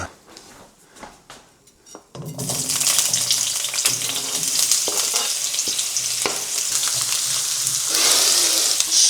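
Portuguese sausage, two different sorts, frying on a Portuguese wood stove; after a quiet start of faint clatter, a loud steady sizzle sets in and carries on with occasional stirring knocks.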